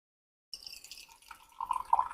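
Tea pours from a gong fu teapot brewing sheng leaves, a thin trickling stream starting after a short silence and growing fuller toward the end, close and without talk.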